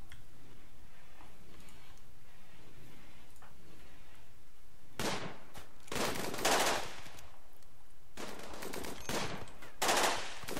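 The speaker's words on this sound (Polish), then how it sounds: "Idź, strzelaj do nich." Gunfire in RimWorld: sharp bursts of rapid shots cracking in several clusters after a quiet stretch, punchy and close, with brief pauses between volleys.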